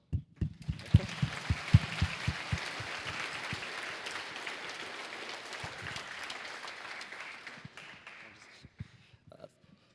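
A crowd applauds steadily for several seconds, dense clapping that swells and then tapers off into a few scattered claps.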